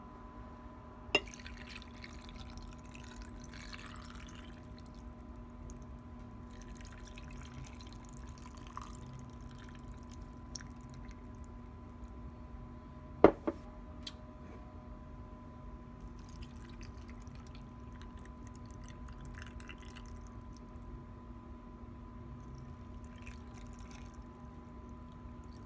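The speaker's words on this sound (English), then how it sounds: "So I'm going to pour that over the meatballs." Home-canned pint jars of beef broth are poured over meatballs, giving a faint, intermittent liquid trickle beneath a steady low hum, with no talking.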